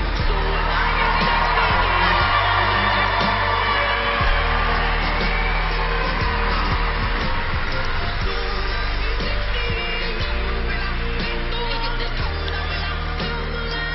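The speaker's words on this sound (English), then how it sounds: "let's have one more round of applause for all of our wonderful graduates this evening" Audience applause and cheering for graduates at a Charles Spencer High School graduation evening, a dense, steady roar of clapping and crowd noise that holds loud throughout with scattered whoops rising above it.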